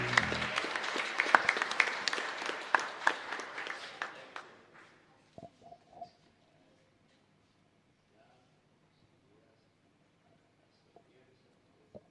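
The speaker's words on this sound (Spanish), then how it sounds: "Un fuerte aplauso para él." Congregation applause during a Pentecost Sunday Mass in a chapel, a burst of clapping lasting about four seconds that fades out, followed by near silence with a few faint knocks.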